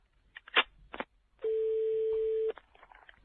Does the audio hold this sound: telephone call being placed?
yes